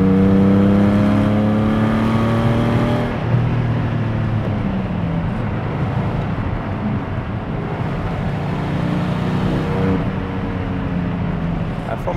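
A Porsche 718 GT4 engine drones steadily and loudly, with pitch shifts near the start that fit automatic rev-matching blips, and a speaking voice runs over the mechanical noise.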